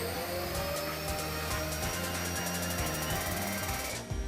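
A vacuum cleaner runs loud and steady with a droning motor whine and a rough rumble underneath, then cuts off abruptly just before the end.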